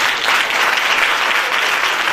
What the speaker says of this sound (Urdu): یسوع مسیح کے لیے تالیاں بجائیں.